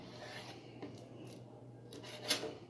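A knife slices raw liver into bait for curimba fishing, making soft, faint scraping and rubbing sounds close by. A slightly sharper cut comes near the end, and no one speaks.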